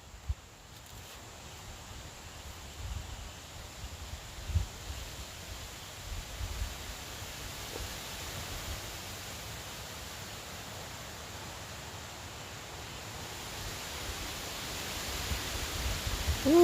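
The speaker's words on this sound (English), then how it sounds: "Ooh, that wind feels good," Wind blowing outdoors, a steady broad rushing hiss with gentle gusts that swell slightly toward the end, heard alone without any talking.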